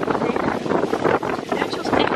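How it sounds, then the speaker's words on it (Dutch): Strong wind buffets the microphone in a constant roar at a beach on Bonaire, with faint voices blurred underneath. "Ik denk dat de wind echt heel hard is."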